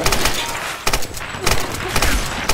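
Repeated gunshots ring out at a barrel in Tomb Raider, four or five loud, evenly spaced bursts over a few seconds with a splintering, breaking edge.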